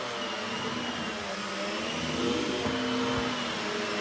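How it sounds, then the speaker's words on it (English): A Maytag Satellite wheelless floating vacuum cleaner runs with its turbo brush, a loud, steady, high-pitched motor whine and rushing airflow that rises slightly in intensity midway and continues unbroken, close and alone. "The turbo brush literally screams."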